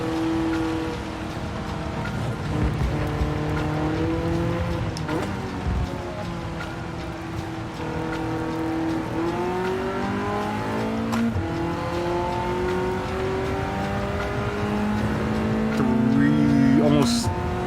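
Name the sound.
race cars racing in the video game Gran Turismo 7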